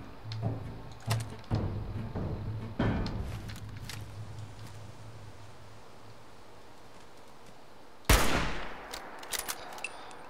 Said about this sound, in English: Right, hunting rifle again.